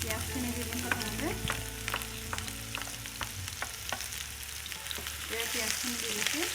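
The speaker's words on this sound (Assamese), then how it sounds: "এয়া তেল গৰম হৈ গৈছে, এতিয়া মই পিঁয়াজখিনি দি দিম প্ৰথমতে।" Onions hit hot oil in a wok on a home stove for an Assamese recipe, giving a steady bright sizzle with stirring clatter and scraping throughout, fairly close and continuous, no talking.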